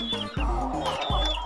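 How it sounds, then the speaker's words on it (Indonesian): Several chickens in a coop cluck close by, a quick series of short, throaty clucks and squawks overlapping one another. "Ini dia ayam-ayamnya."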